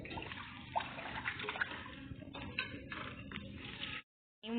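Fish washed in water with rock salt added, close splashing and sloshing as hands rub and move the fish around, with irregular swishes and drips before a brief silence near the end.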